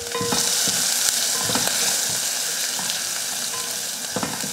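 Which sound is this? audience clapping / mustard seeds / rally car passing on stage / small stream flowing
mustard seeds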